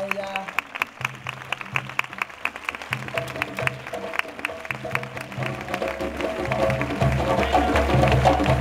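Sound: audience applause for a singer at a concert

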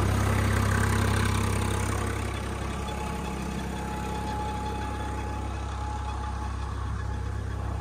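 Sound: engine running at 1200 rpm

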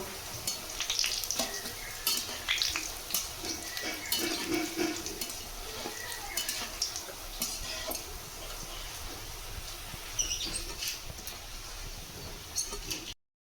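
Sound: boondi frying in oil for motichoor laddu

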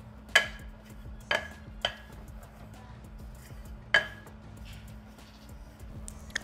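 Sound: stirring ingredients in a bowl

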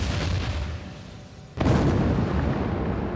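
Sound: thermite reaction igniting

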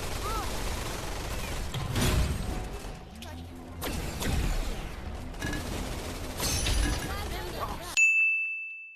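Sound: gunfire in the VR video game Gun Raiders

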